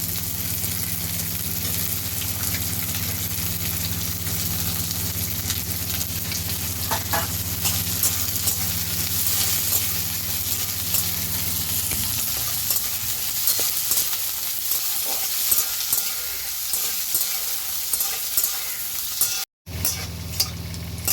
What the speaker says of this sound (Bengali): বিনস আর ফুলকপিটা একসঙ্গে দিয়ে দিই।